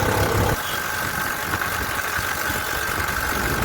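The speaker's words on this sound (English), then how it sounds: "But the rickshaw no longer buzzes like a chainsaw, it just farts." An auto rickshaw with a broken exhaust pipe idles with a rough, steady low rumble, loud and continuous, after a brief louder burst at the start.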